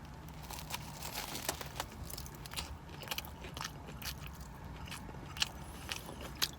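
Someone bites into and chews a fried oyster po' boy sandwich with lettuce, tomato and bread: close, soft crunches and wet chewing in an irregular rhythm, quiet, with no talk.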